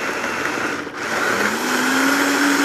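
A blender whirs steadily as it purees soup, a loud continuous motor whine that briefly dips, then rises in pitch as the load thins.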